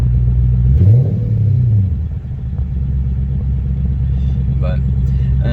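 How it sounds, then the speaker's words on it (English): Car engine idling smoothly after an ECU replacement, a steady low rumble close by with a brief rise in revs early on, while someone talks over it. "this thing's motor's running smooth. It's sounding good."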